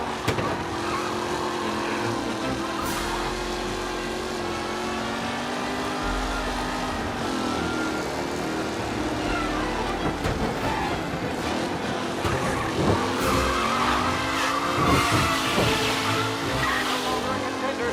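Race cars from the video game Mafia roar and skid continuously, engines whining with tire squeals rising and falling, a commentator's voice talking over the racing.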